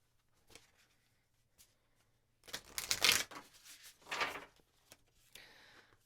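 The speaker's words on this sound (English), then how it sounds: "And I'm just going to shuffle a few more times." Tarot cards are shuffled up close in a few brisk bursts of riffling and sliding, with quiet taps and pauses between them.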